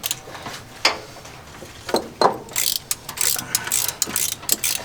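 Ratchet wrench removing spark plugs from a farm truck engine: close, rapid bursts of metallic ratcheting clicks that grow busier and louder through the second half.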